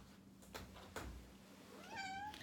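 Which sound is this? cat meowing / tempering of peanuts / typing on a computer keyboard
cat meowing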